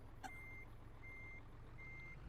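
A truck in Euro Truck Simulator 2 backs up with three evenly spaced reversing beeps over a low rumbling diesel idle, fairly quiet overall with a brief click near the start.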